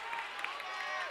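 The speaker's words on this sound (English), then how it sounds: "Crowd on its feet." Crowd at a high school basketball regional final between Sun Prairie East and Madison Memorial rises to its feet, a faint, steady roar with scattered claps and raised voices blending into a distant arena wash.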